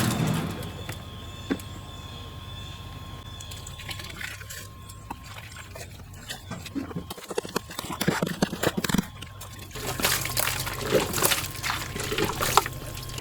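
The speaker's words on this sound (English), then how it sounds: "And I also tried pouring boiling water on it." Boiling water is poured onto ice: it trickles and splashes quietly at first, then pours more strongly with hissing and crackling toward the end, over a low steady hum.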